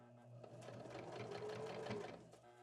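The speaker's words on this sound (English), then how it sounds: "Machine going over all those layers." A sewing machine stitches steadily through several stacked layers of fabric while sewing a shield for a reusable feminine hygiene pad, its rapid needle chatter running continuously and close for the whole stretch.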